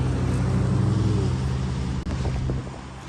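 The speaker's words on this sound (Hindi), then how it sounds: "ये GMC गाड़ी।" A GMC vehicle with its engine running, a loud close rumble with a steady low hum that holds, then briefly dips and eases off toward the end, with no talking.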